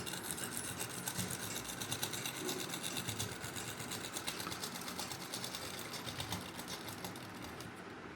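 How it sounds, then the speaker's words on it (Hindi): A sewing machine runs steadily, stitching along the edge of a salwar for a semi Patiala suit, a continuous dense mechanical whirr with rapid needle ticking that stays loud and unbroken throughout. "ये सिलाई हम एंड तक लगा के ले जाएंगे, बिल्कुल ऐसे ही, बिल्कुल किनारी के ऊपर"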